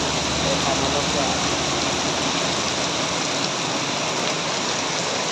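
Rain falls steadily and loudly during bus spotting on an Indonesian road, a dense continuous hiss with a faint low traffic rumble underneath and no clear talking.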